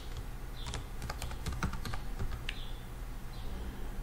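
Someone types on a computer keyboard in a burst of quick, uneven clicks followed by a few separate taps, fairly faint over a steady background hum, with no voices.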